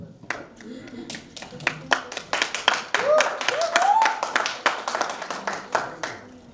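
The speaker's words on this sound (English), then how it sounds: "Please give a huge round of applause for my team." A small conference crowd claps in a loose, uneven burst of distinct sharp hand claps, fairly close, while a voice speaks over the middle of it.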